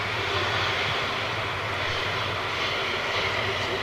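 Ilyushin Il-76 jet landing with engines in reverse thrust, a loud, steady broadband roar with low rumble holding constant throughout, close and continuous with no talk.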